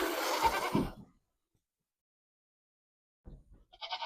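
A goat on a Georgia farm lets out a loud, close, wavering bleat in the morning, followed by near silence and then a fainter, shorter bleat at the end.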